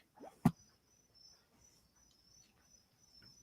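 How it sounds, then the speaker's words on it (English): Crickets chirp in a quiet backyard at night, a faint, steady high trill that runs unbroken through the clip, with one brief close thump near the start. "As I'm hearing crickets in my backyard."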